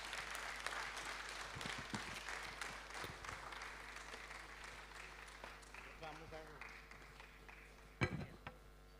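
Applause from the audience at an ICT expo opening ceremony in Nigeria, a sustained wash of clapping with speech over it, fading slightly before a sharp burst near the end.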